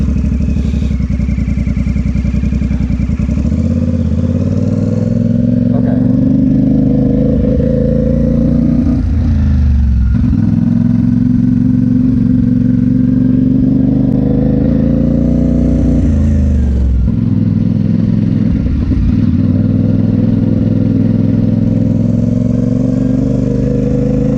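A CFMoto 450SS motorcycle engine runs loud and close throughout slow parking-lot riding, with repeated throttle blips, revs rising and falling, and idle dips between maneuvers; no talk.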